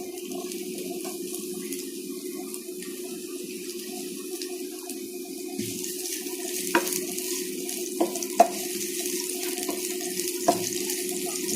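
Onion added to hot oil, giving a steady, even sizzling hiss throughout with a few small pops and clicks in the second half.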